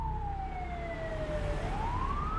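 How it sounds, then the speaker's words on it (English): A police car siren wails as the car races down a street, one loud, sweeping tone that falls and then rises again over steady traffic rumble. "And so Dan, he comes flying down the street, he's got his sirens on"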